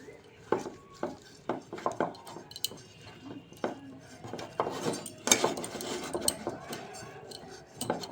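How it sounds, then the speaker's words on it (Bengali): Oil being brushed around a cake tin in a home kitchen, heard as light scraping and clinking of brush and utensils against metal, in short intermittent bursts close by. "তেলটাকে একটু ব্রাশ দিয়ে চারিদিকটাই করে নেব আমি।"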